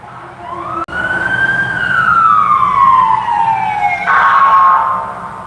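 State police car sirens wail through traffic, a loud, rising-and-falling tone that sweeps down and then jumps into a sharper yelp near the end, sustained throughout with road rumble underneath.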